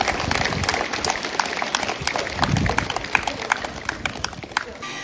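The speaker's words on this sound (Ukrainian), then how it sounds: "Ця учителька варта ваших аплодисментів." Audience applause at a school last-bell ceremony at a lyceum, honoring a teacher: dense, steady clapping from a crowd throughout, with a few sharper nearby claps standing out.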